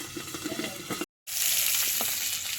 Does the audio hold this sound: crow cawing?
no